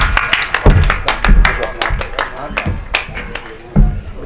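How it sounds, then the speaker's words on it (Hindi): Audience at a kavi sammelan applauding to welcome poet Deepak Saini, a short burst of fairly loud, uneven claps with a few sharper hand strikes, sounding like a modest crowd and fading after a few seconds. "एक बार जोरदार तालियां बजाकर आप स्वागत कर दें भाई दीपक सैनी"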